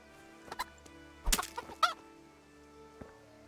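Chickens cluck in Kingdom Come: Deliverance, a few short bursts around the middle among quiet game ambience, with no talking.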